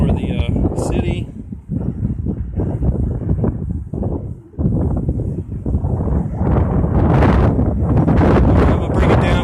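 Strong headwind roars and buffets across the microphone during a DJI Phantom 3 Standard drone flight over a city, loud and continuous with gusty swells, while someone talks over it.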